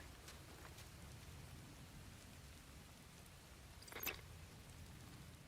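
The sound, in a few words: rain falling in the video game Beast of Reincarnation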